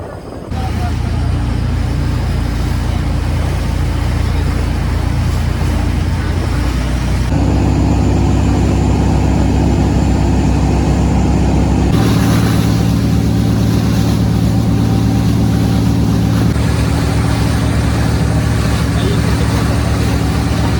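Motorboat engine running steadily at Malvan beach after parasailing, a loud continuous drone that shifts in pitch as the boat changes speed, heard close throughout with wind and water noise.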